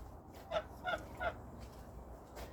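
Three short goose honks spaced about a third of a second apart, fairly close, over a faint low background rumble, then quiet.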